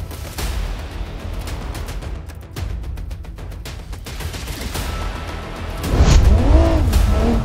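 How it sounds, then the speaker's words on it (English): A BMW Z4 sports car runs a stunt parkour track in the BeamNG Drive video game, with a steady engine roar, sharp impact clatters, and a rising revving whine toward the end. "BMW Z4 has to pass this track in 1 minute."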